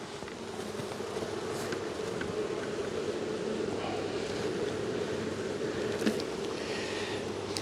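Swarms of honey bees hum around a hive box during a hot-weather honey harvest. The drone is dense and continuous, with individual bees buzzing close by now and then.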